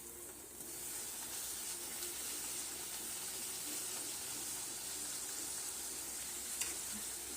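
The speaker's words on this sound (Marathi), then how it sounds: "तेलात सोडले की लगेच आपल्याला पुरी दाबून घ्यायची" Spinach puri frying in hot oil, a quiet steady sizzle and bubbling hiss that runs continuously without a break.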